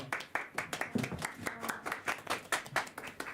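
A group of middle school students claps steadily for a few seconds at a school award ceremony, moderate applause with even, rapid hand claps and no voices.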